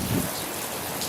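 Rain during a baseball rain delay at a ballpark, a steady dense hiss of falling drops over the covered field, soft and continuous.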